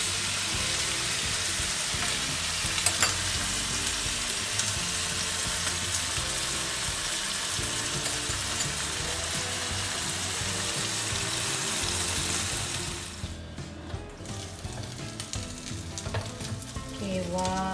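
Chicken pieces frying in hot oil in a pan for Thai-style grilled chicken, a steady dense sizzle lasting throughout, close and loud, briefly dipping near the end before crackling resumes.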